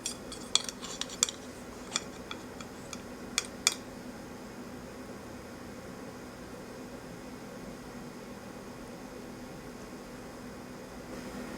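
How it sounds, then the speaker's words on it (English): A slice of iced vanilla cake served onto a plate: a few light cutlery-and-plate clinks in the first few seconds, then only a steady quiet background hiss. "we're going to go ahead and serve a slice on a plate"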